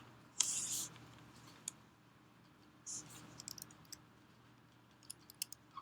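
Typing and clicking on a computer keyboard and mouse while entering a formula, sparse faint clicks and short key taps scattered over a quiet background, with a couple of louder brief bursts.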